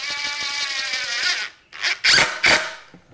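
A power drill drives a screw into the wooden framing of a garage workbench: a high whirring spin for over a second, then a few short, sharp bursts of the drill biting as the screw seats.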